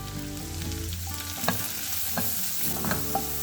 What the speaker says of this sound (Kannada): ಸ್ವಲ್ಪ ಫ್ರೈ ಆದರೆ ಸಾಕು ಆನಿಯನ್ನ